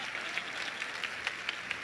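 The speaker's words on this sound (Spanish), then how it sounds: "Un aplauso, hombre." Faint, sparse applause from a small workshop audience, with a few distinct claps standing out at a loose rhythm over a soft wash of background clapping.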